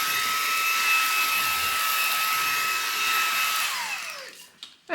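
A Xiaomi Mi Vacuum Cleaner Mini with a narrow crevice nozzle whines steadily and close, with a high tonal motor hum. The whine drops in pitch and cuts off near the end, leaving a brief clatter.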